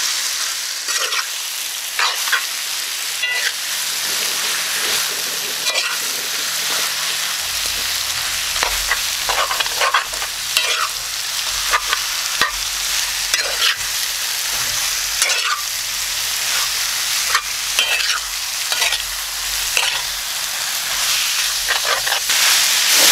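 Duck curry meat fries over high heat with a loud, continuous sizzle and hiss, while a spoon scrapes and stirs steadily through the pan for the whole stretch.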